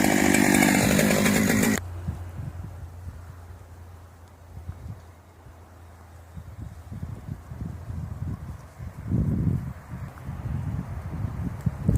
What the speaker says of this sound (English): Using a chainsaw, he cuts off the tree's tip